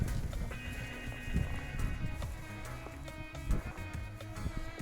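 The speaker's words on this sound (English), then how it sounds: "We're being stalked by horses." Horses walking over rough ground at an Elan Valley wild camp, hooves thudding irregularly and close by under steady low rumble, with faint clip-clop steps and shuffling but no clear neighing.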